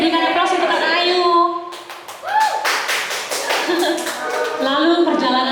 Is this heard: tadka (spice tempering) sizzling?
no